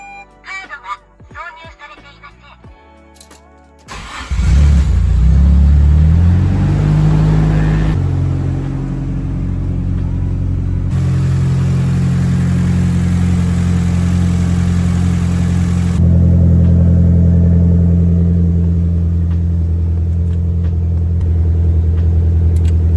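A Nissan Silvia S15 engine starts for the first time after its battery was moved. After a few seconds of small clicks, the starter cranks and the engine catches with a loud rumble, then settles into a steady, close idle with small shifts in pitch.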